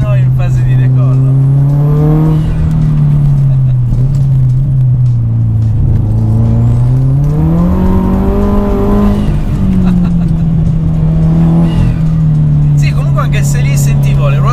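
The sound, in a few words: turbocharger of Subaru WRX STi accelerating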